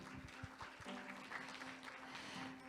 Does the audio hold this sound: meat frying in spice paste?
no